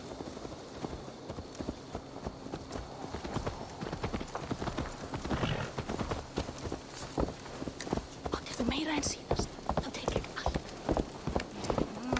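Horse hooves clip-clop steadily in the video game Assassin's Creed Valhalla, a continuous rhythmic walking gait heard close, with game ambience and characters talking over it.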